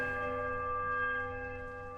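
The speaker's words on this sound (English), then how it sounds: "The bell sounds a strange, warbling peal that grows to a painful shrillness before it diminishes into a mournful chime." A large church bell rings inside a ruined temple in Pillars of Eternity. Its steady, rich tone holds several layered overtones for two seconds, fairly quiet and alone, fading slightly toward the end.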